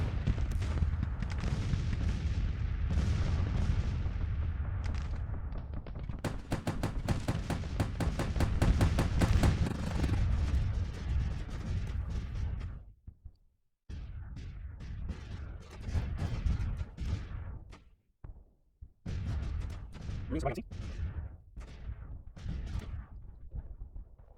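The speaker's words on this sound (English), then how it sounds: "that's the Gatling gun crew" Gatling gun crew firing in a Civil War video game set on the Virginia Peninsula, with dense, continuous rapid gunfire and booming volleys rolling on and off for about twenty seconds, loud and close.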